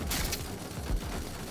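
Gunfire in Watch Dogs: Legion, a short cluster of quick shots with a couple of louder bursts, fairly close and loud, with no talking.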